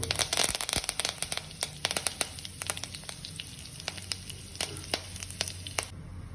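Mustard seeds, urad dal and curry leaves sizzling and popping in hot coconut oil in a pan, with sharp irregular crackles over a steady fry, loudest at the start.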